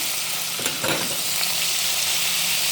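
Vegetables sautéing in ghee in a pan give a bright, continuous sizzle and crackle, close and fairly loud, with a brief stirring scrape near the start.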